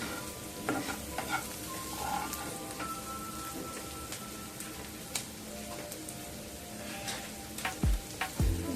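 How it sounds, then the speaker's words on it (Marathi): Drumstick leaves sautéing with onion, salt and chilli give a steady sizzle, with a spoon stirring and scraping the pan at irregular moments and a couple of louder knocks near the end. "मीठ मिरची कांदा हे आता मी मिक्स झालेलं आहे चांगलं तर परतून घ्यायचं चांगलं व्यवस्थित"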